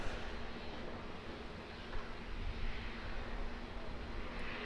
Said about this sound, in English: We've got another A320 turning on a short final.